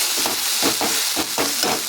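Mustard and poppy seed paste fries and is stirred in a pan with fried onions, a steady sizzle with rhythmic scraping stirs about every quarter second, close and moderate in level.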